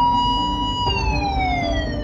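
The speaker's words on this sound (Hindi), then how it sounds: "अरे ये क्या, ये तो पुलिस के कार की आवाज है" A police car siren in an animated horror story, a loud, close wail that sweeps in pitch and holds steady for two seconds.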